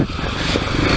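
A Kawasaki KLX300 dirt bike engine lugs at low revs in second gear on a trail ride at Highland Park Resort, giving a close, continuous rumbling chug mixed with wind noise.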